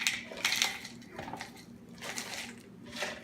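French's crispy fried onions rattle and crunch faintly as they are dropped into a cup, in a few short scattered bursts close by.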